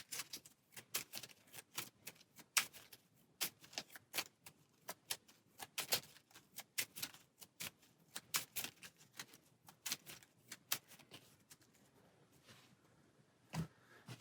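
A deck of Marvel Champions cards is shuffled by hand, producing repeated quiet riffling clicks and snaps in irregular bursts, close and soft, with no talking.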